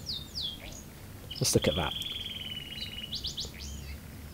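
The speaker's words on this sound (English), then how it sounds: "There's a bird." A small bird chirps in the Heavy Rain video game, with sweeping whistled calls and a rapid trill near and clear over a quiet room tone, and someone speaks briefly partway through.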